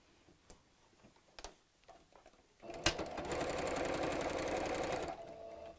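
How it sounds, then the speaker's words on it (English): A sewing machine stitches along the sides where pieces of cushion fabric overlap. A few light clicks lead into a steady, fast mechanical whirr that runs for about two seconds and then stops. "What I'm also going to do is to just sew over the sides where the fabric overlaps, just to hold them in place basically"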